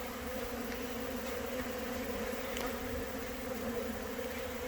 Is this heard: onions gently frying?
no